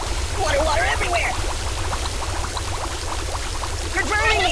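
Water pours steadily onto the buddy ragdoll in the Kick The Buddy mobile game, a continuous splashing gush running the whole time with a cartoonish voice and chirpy game sounds layered over it.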